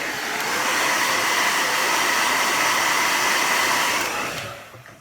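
Hair dryer drying paint on a realistic fried-egg painting, a steady close whooshing blow that runs for several seconds and then shuts off and fades near the end.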